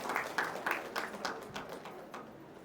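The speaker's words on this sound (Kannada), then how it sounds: "ಜೋರಾದ ಚಪ್ಪಾಳೆ ಬರಲಿ" Applause from an audience at a staged drama performance about Dr. B. R. Ambedkar's life, a rippling burst of claps that starts fairly strong and slowly thins out as it fades, heard alone.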